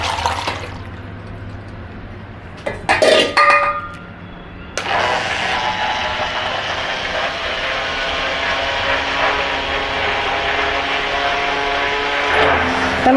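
Blender churning cream into butter in a pot: a loud, steady mechanical whir with a continuous sloshing, watery texture runs throughout, starting after a brief clatter and a short pause, with no talk.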